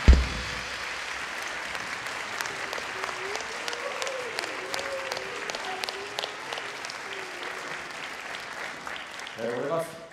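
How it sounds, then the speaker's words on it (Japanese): A Tokyo concert audience applauds to welcome a troupe of child dancers back on stage, sustained clapping filling the hall while an amplified announcer speaks over it, ending with a rising swell. "皆さん拍手でお迎えください"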